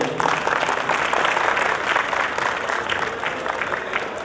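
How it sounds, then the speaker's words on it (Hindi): A crowd at a Salasar Balaji jagran gathering in Hisar claps loudly and steadily, a dense, sustained round of applause from many hands with a few voices mixed in. "एक बार जोरदार ताली बजानी।"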